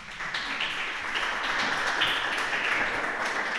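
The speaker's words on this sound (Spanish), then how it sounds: "un aplauso, por favor" An audience claps for a guest being welcomed at a live talk event, a dense steady applause lasting throughout at moderate loudness with no voices over it.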